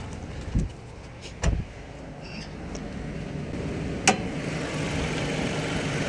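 A 2.4-litre dual VVT four-cylinder car engine runs at a steady idle as a low, even hum. A few short knocks and clicks come up near the start, with no voices.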